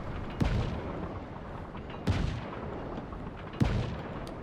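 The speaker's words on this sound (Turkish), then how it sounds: "Baya baya top atışı yapıyorum ya." Cannon fire in the video game Just Cause 3, three heavy booming shots spaced about one and a half seconds apart, each a sharp blast with a rumbling decay over a constant low background.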